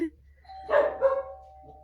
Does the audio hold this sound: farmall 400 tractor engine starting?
no